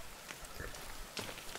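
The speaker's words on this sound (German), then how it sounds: "Jetzt allerdings bei Regen." Rain falls in the survival video game The Forest as a faint, steady hiss with scattered soft patters, low in level and continuous throughout.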